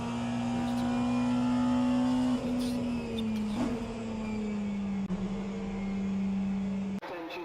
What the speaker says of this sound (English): the car sounds are super loud